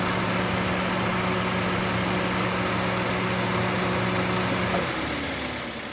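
A car engine idles steadily with its AC compressor running, a constant low hum with tonal drone that drops away near the end as the compressor cycles off.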